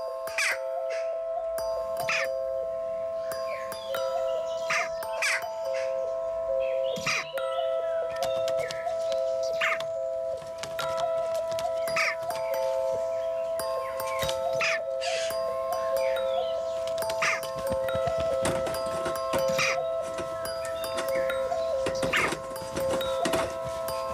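Jackdaws give repeated short, sharp calls that sound near and fairly loud, with a constant tonal hum running underneath, and no voices.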